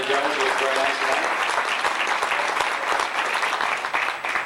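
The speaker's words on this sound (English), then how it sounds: "Give her a nice round of applause, ladies and gentlemen." Hearty audience applause at a racing fan club banquet during a trophy presentation, dense and sustained with a voice faintly over the start.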